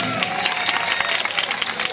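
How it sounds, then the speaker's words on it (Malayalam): A crowd at a Malayalam comedy stage show claps in a dense burst, mixed with crowd murmur, over about two seconds. "ഒന്ന് കൈയടിക്കും"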